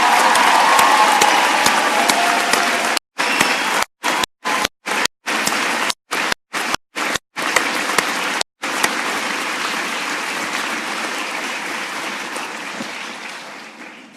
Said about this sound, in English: How about joining me in a round of applause for Romeo Company?